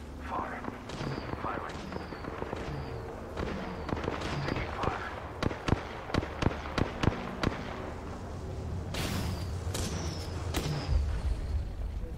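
Robot enemy fire in a video game: a rapid string of sharp popping shots over a dense, noisy battle background, with further bursts and a voice talking throughout.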